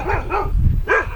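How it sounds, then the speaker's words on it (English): A neighbor's dog barks three times close up, two quick barks then a third after a short pause. "after a 20-minute delay of the neighbor's dog barking"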